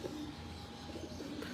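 Breeder pigeons in a keeper's loft coo softly, a few low rounded calls repeating close by over faint background rustle, with no voices.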